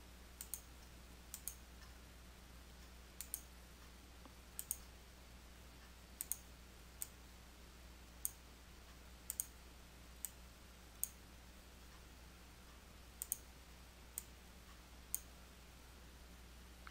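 Sharp mouse clicks, about a dozen spaced irregularly, each crisp and isolated against a faint steady hum, while working in Microsoft Publisher 2019 on a catalog merge.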